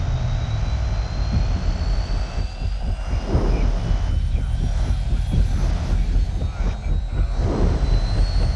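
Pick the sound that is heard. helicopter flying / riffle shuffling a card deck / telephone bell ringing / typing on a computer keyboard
helicopter flying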